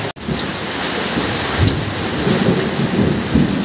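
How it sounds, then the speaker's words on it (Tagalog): Heavy rain pours down outside a small roadside business, a dense, steady roar that fills the whole clip without a break. No one speaks. "Ayan mga kapapa, lakas ng ulan."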